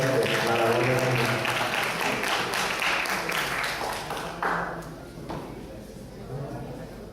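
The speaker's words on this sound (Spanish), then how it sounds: "me gustaría que todo el mundo pues, le diera un aplauso" Audience applause for Professor Wilfredo Ortiz at an economics lecture in Puerto Rico, steady clapping from a crowd that fills the room, loud at first and thinning toward the end.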